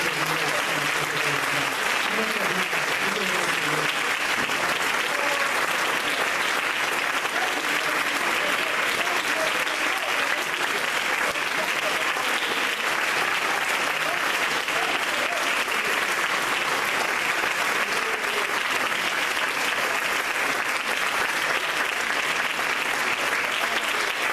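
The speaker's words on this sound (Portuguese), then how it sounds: "Você aplaudir seu Senhor" A church congregation applauds at length, a dense, continuous roar of many hands clapping at steady loudness, with some voices faintly mixed in at the start.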